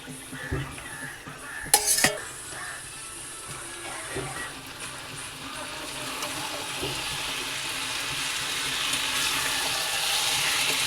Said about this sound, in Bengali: এবার আলু দিয়ে কষাবো